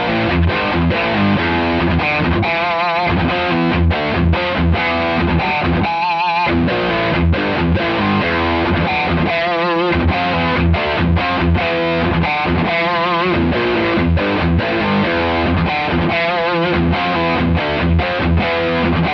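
An electric guitar runs through a Fender Santa Ana Overdrive pedal dialed for an 80s LA rock or metal tone, playing loud, saturated chugging riffs and sustained chords with short palm-muted stops, alone without talk.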